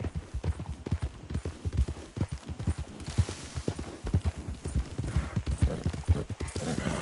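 Rapid clip-clop of horse hooves at a steady gallop in Red Dead Redemption 2, loud and close, with faint background noise throughout.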